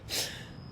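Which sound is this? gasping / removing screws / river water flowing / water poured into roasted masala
gasping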